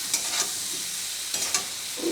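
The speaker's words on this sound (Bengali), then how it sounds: "এবার বেগুনটা দিয়ে একটু ভাজা ভাজা করে নেবো।" Eggplant pieces sizzle steadily in hot oil in a pan, with brief scraping stirs, no voices present.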